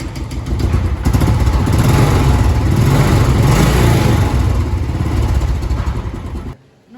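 A 2016 Royal Enfield Bullet BS3 motorcycle starts and idles close by, a loud, steady, low thumping engine note that runs continuously before cutting off abruptly at the end.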